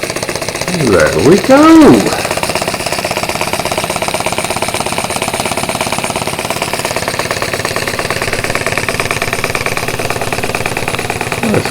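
An oscillating steam engine runs with a rapid, even chuffing beat, briefly rising and swooping in pitch at the start before settling into a steady loud rhythm, with a short spoken remark early on.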